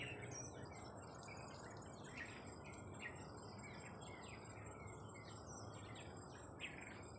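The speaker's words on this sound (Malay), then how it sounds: "Saya rasa macam ada persaingan juga ni antara dua spesies burung yang berbeza ni." Birds of two different species call near nesting spots at dusk on an urban farm, with repeated chirps and trills over a dense, steady background of insects and crickets, faint and distant.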